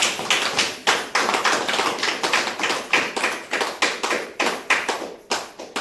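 Hands clap in a quick, steady rhythm, dozens of sharp claps following one another without pause, loud and close, with no voices over them.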